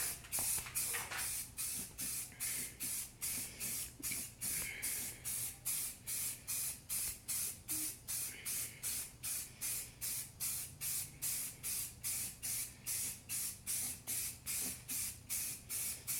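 A spray gun applies paint to a Honda Accord quarter panel in about thirty short, evenly spaced hissing bursts, close and steady, with no talking.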